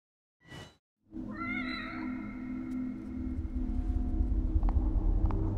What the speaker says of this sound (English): Oh no, it's a save point cat.